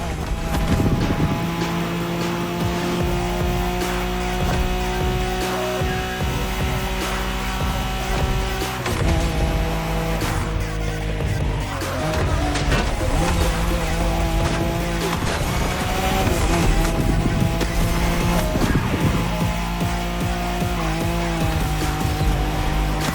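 A Nissan Skyline races hard in The Crew Motorfest, engine screaming at high revs with steady pitch climbs through gears, brief dips at shifts, and tire squeal as it corners, loud and continuous for over twenty seconds.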